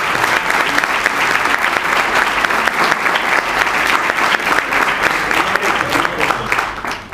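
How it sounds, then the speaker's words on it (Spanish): An audience at a university speaking presentation applauds Pamela with a dense, continuous wash of clapping that stays loud and steady for several seconds before easing off at the end. "¿Le podemos dar un aplauso a Pamela?"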